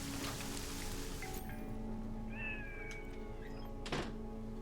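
A cat meows in the Deus Ex: Mankind Divided video game, a couple of short close mews over a steady background hum with a soft thunk near the end; no speech.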